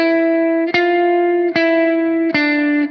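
Three bright chord voicings on a guitar's upper three strings struck one after another, each ringing for most of a second before the next, clean and close with no talking.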